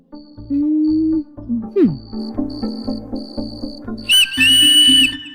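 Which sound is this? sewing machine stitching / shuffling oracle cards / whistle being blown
whistle being blown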